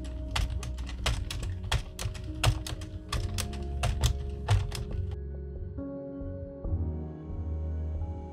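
A circular knitting machine, an Addi 46 or Sentro, cranked slowly through rows of waste yarn, giving a steady run of close, loud plastic clicks and clacks that thin out and turn smoother toward the end, with no talking.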